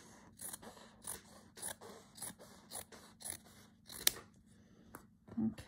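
Scissors snipping a caught thread during slow hand-stitching, a quiet series of evenly spaced crisp snips close by, followed by one sharper cut and a soft thud.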